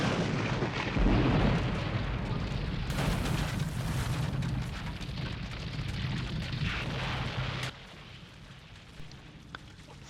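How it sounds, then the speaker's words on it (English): A huge movie explosion from Friday the 13th Part VII: a deep rumbling blast with a sharp onset, then a sustained roaring, crackling fire and debris wash that cuts off abruptly near the end, loud and without speech. "ultimately climaxing in one of the best movie explosions ever caught on film"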